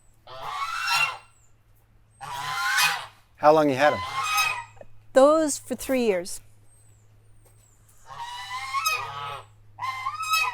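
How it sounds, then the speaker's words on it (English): Two geese on a farm honk loudly in bursts of repeated, nasal calls, alternating with a person speaking nearby; a low steady hum runs underneath. "Tell us about who we're hearing. That's There's funny. 2 geese. They talk to everybody."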